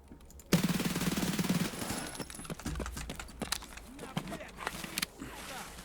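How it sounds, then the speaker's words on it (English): Several sniper rifle shots ring out in the Escape from Tarkov game, with a sharp loud crack at the start followed by scattered smaller bursts and clatter, while a player talks over the action. "That is multiple snipers."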